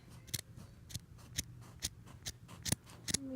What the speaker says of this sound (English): I need to cut off this extra fabric.